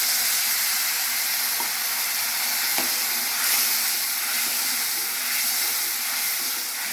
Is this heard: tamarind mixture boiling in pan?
yes